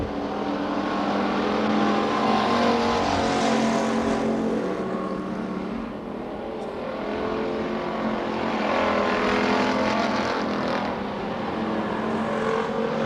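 Race cars roar continuously around the Billings Motorsports Park track during a heat race, a dense, loud engine drone that swells and dips slightly as the pack passes.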